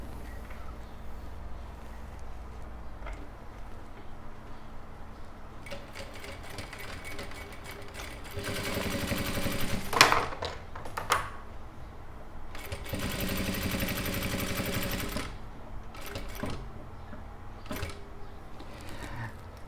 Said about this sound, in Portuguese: E nós vamos bater uma costura para fazer 2 bolsos a partir do meio